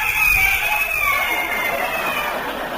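Rooster crowing in an old-time Australian radio drama, a loud, drawn-out close crow over a hissy broadcast background.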